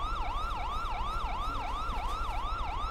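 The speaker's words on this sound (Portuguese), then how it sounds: "Nem ouvi sua sirene" Police car siren in the GTA 5 video game, a fast wailing yelp rising and falling in quick regular sweeps, steady and fairly close with no talk over it.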